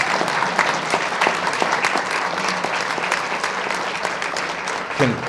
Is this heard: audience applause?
yes